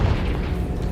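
A Confringo explosion spell in the video game Hogwarts Legacy, a short, loud, deep boom with rumbling low-end that fills the whole moment, no speech.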